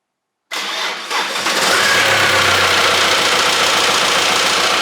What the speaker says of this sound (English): Now we can try and start it.